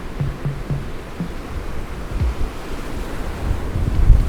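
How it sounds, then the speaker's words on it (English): Ocean waves wash in at Zuellni Beach on Isla Culebra, a steady rumbling surf mixed with strong wind buffeting the microphone, with a few low thuds. "I arrive at Zuellni Beach, the second most popular beach on Isla Culebra."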